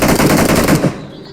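Rapid automatic gunfire in a video game rattles loudly in a dense burst for under a second, then cuts off and fades into quieter background.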